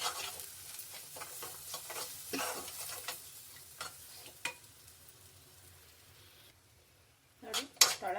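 Coriander chutney frying in oil in a pan, stirred with repeated close scraping strokes over a soft sizzle, then a short lull and a clattering spoon; a voice talks intermittently.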